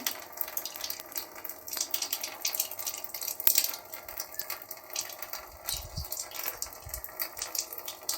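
Tap water runs steadily in a soft, hissing stream during a Kangen water device setup at home, fairly quiet, with a few light clinks and knocks.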